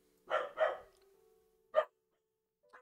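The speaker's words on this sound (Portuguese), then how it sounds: "Pera aí, meus cachorros estão maluquinhos." Dogs bark indoors, two quick close barks followed after a pause by a single sharp bark and a faint short yip, with a quiet whine trailing between them.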